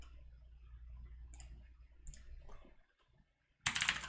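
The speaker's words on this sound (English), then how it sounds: "the only reason I bought this keyboard was this noise" Clicky keys on a computer keyboard chosen for its sound clatter faintly in short bursts, then a louder flurry of rapid keystrokes arrives close at the end, with no talking.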